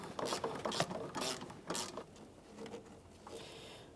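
A ratchet clicks in quick bursts while loosening the brake master cylinder mounting nut on a 2012-2015 Honda Civic, close and fairly loud, the clicking easing off toward the end.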